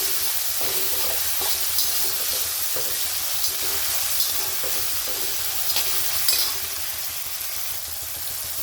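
Tomatoes sautéed and stirred in a pan while cooking a dill greens (shepu) vegetable dish, a steady soft sizzle running throughout with faint scraping of the stirring spoon, close and without talk.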